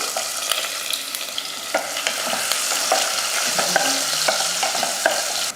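Onion sautéing in oil with fennel, bay leaf, clove, cardamom and cinnamon, loud close sizzling with repeated scraping stirs of a spatula against the pan, no voices.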